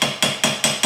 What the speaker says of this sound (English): we can little bit hammer carefully